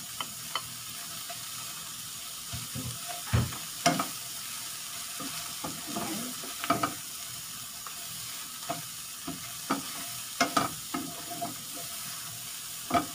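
Garlic shrimp with onion leaves frying in a pan, with a steady sizzle running throughout and scattered scraping and clacking from stirring utensils, close by.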